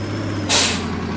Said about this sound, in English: Oh, it's even got like air brakes and all that fun stuff.